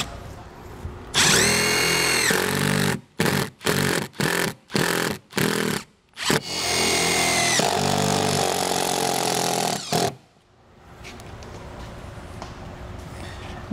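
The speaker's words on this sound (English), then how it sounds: "we can grab our screws and mount it into our stud" A power drill drives screws into a wall stud to mount an RV ladder arm on a 2021 Keystone Passport SL travel trailer: a long loud whir, a run of short rapid bursts, then another sustained whine before quiet.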